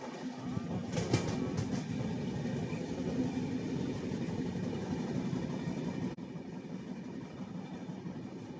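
A passenger train on the Visakhapatnam to Varanasi route rumbles steadily past hills, heard from inside with a constant broad roar, a brief rattle of clatter near the start, and a slight shift in tone later.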